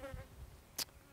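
Honey bees buzz faintly at a hive, a soft, thin hum that stays low and distant, broken once by a short, sharp rustle or knock near the end.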